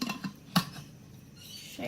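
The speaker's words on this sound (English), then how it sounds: "put a bit of water in it, shake" A tomato puree jar with a little water in it, shaken briefly, gives a few light clinks and one sharp rattle of liquid against glass, then a quiet stretch.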